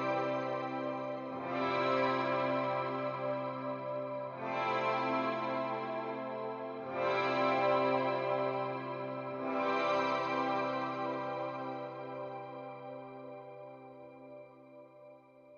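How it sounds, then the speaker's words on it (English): Guitar through a Mr. Black Eterna shimmer reverb set fully wet, so only the effect is heard: four soft chords swell in one after another, with shimmering high overtones that hang and slowly fade, alone. "When I play the guitar now, you will not hear the actual guitar signal, you just hear the affected signal."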